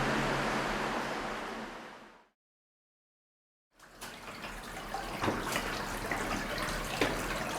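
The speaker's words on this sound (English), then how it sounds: "So much water coming into this place," Water pours and trickles through rock inside a former RAF reserve bomb depot bunker at Llanberis, a loud, broad rushing hiss that cuts out briefly to silence before resuming, steady and continuous with no voices.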